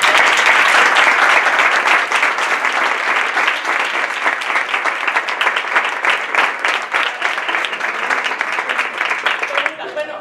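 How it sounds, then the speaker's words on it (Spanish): A large audience in a University of Seville lecture hall breaks into loud, sustained applause, a dense unbroken roar of many hands clapping for about ten seconds before it cuts off sharply at the very end. "quería, por supuesto, que le dierais un aplauso muy grande a los que"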